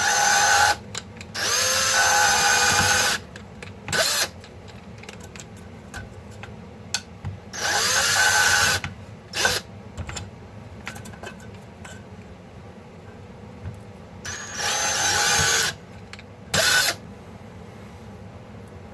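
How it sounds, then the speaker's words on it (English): A power drill bores holes through a tin tuna can for an alcohol stove, in several loud bursts of whirring and grinding separated by pauses and quiet handling noises. "we got the holes drilled in what's going to be our top can"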